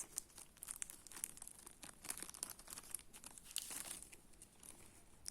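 Tape is pulled off a shopping package, a faint, close crinkling and tearing rustle with small irregular crackles running throughout, slightly denser near the middle.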